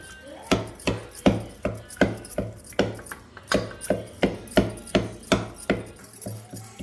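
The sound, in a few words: mashing cooked tomatoes for tomato rasam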